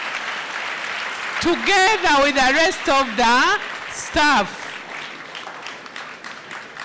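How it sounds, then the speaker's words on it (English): Students at a school thanksgiving Mass clap for their teachers and staff. The applause is a continuous background patter beneath someone speaking over a loudspeaker. "Can you clap again?"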